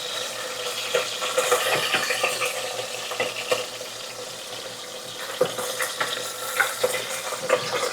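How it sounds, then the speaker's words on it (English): A spoon stirs a hefty chunk of cold sour cream into a sauce in a hot pan for a low carb Easter dinner, giving steady scraping and soft sizzling with occasional sharper clinks against the pan. "let's give it a stir"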